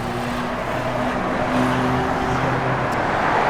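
A 1968 Pontiac GTO convertible drives along with a steady engine drone and road rumble, close and constant, no talking.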